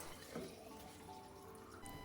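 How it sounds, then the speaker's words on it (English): Pots and water bottles being washed by hand at a kitchen sink, with faint running tap water and soft splashes and clinks at a low level throughout. "So I wash the remaining pots and water bottles by hand."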